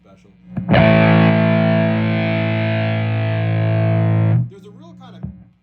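A loud Stratocaster chord on the bridge pickup, tones fully up, played through a Big Muff fuzz pedal into a Marshall, rings out with thick distortion for several seconds, then cuts off, followed by faint handling noise.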